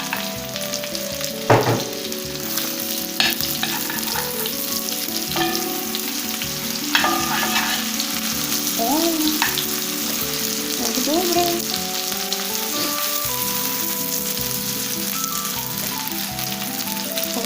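Steady sizzling and crackling of chicken drumsticks frying in a pan, with occasional louder pops and faint clinks of utensils.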